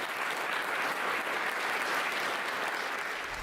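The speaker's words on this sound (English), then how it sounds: "Round of applause for number 19." Studio audience giving a round of applause at a televised perception experiment, dense steady clapping throughout, loud and close, without speech on top.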